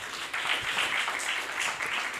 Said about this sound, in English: let us give them a round of applause also